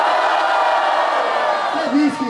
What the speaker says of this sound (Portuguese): Atenção, barulho pra quem gostou das rimas de Zuluzão.